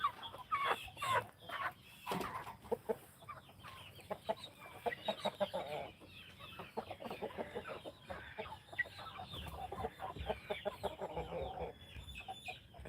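Roosters and hens on a farm cluck and squawk continuously, a busy, dense flock chorus with overlapping calls, fairly close and steady throughout.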